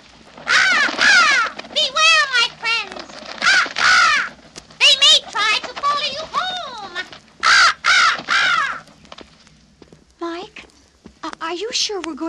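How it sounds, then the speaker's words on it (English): A raven caws repeatedly as a sound effect on a Haunted Mansion record, loud harsh calls in irregular bursts that alternate with and overlap a voice talking. "There's that raven again."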